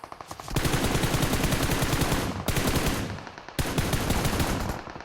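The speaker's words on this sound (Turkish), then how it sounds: "Şimdi vuruyorum işte adamları." Sustained automatic gunfire in the mobile battle-royale game PUBG Mobile, loud, close and rapid, in three long bursts separated by brief breaks, with no talking.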